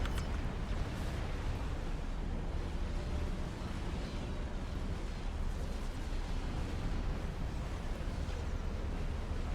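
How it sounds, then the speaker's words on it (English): A nuclear strike lands on an Aeon base in the real-time strategy game Supreme Commander: Forged Alliance, producing a sustained, heavy, rumbling roar that fills the whole stretch without letup. "let's go ahead and get a pretty shot of that nuke landing"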